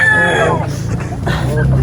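A rooster crows among chickens in a rural yard, the call rising and trailing off, with clucking fowl around it and people talking at the same time.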